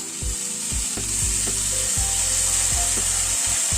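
Spice paste going into a hot pan for an egg and pointed gourd curry, a continuous hiss of frying under a series of low knocks and scrapes from stirring, close and steady.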